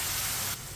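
Milk poured into a hot pan for khashkhash halwa gives off a loud, steady sizzling hiss that drops abruptly to a softer hiss partway through the brief moment.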